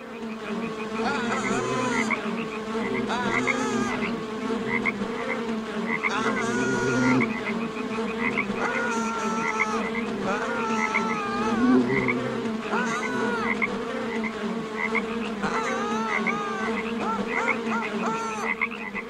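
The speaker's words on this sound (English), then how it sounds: "God has sent us frogs and locusts." Frogs croak in a dense chorus while a locust swarm buzzes and hums throughout, loud and continuous, with rhythmic croaks repeating over a thick insect drone and no voices.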